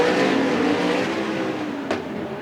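Sprint cars of the Interstate Sprint Car Series race in close quarters around Willamette Speedway, a loud, dense engine roar sustained throughout with a sharp brief burst near the end.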